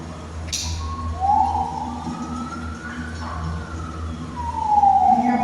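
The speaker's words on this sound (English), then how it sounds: "You hear more siren for that" Fire engine sirens wail during a wildfire outdoors, their rising and falling tones sweeping in and out over a steady rumble of wind and traffic, moderately distant, with one sharp burst near the start.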